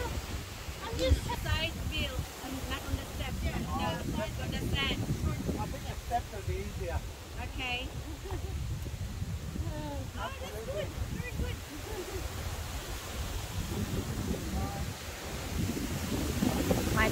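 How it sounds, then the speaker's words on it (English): Wind rushes and buffets the microphone continuously on a sandy mountainside while several people talk over it, the gusts swelling and easing in the background. "you can hear the gust, wind gust."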